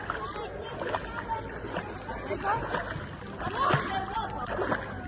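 A woman swimming laps in a pool, with irregular close splashes and sloshing water strokes, heard under talk and background voices in an indoor pool hall.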